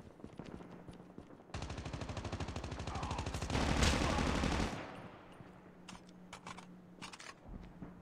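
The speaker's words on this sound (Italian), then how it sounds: "Chi è che stava sparando a te?" Rapid automatic gunfire in the mobile shooter Call of Duty Mobile, a sustained burst of a few seconds, loud and close, followed by scattered clicks and softer game sounds.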